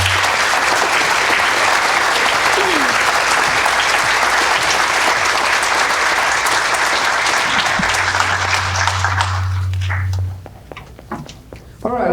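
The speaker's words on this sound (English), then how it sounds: "Can we please give a round of applause to Dr." A dense, loud burst of audience applause fills a concert hall before a mariachi performance, clapping steadily for about ten seconds and then cutting off into quieter room noise.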